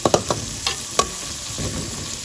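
Onions, beans and tomato sauté in a hot pan, a steady sizzle broken by several sharp scraping clicks of a spoon stirring the vegetables, close and alone without talk.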